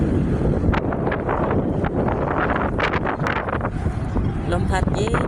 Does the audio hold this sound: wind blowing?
yes